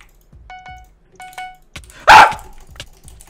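A dog gives a short, sharp bark, loud and close, set against a quiet background with faint tonal beeps and small clicks around it.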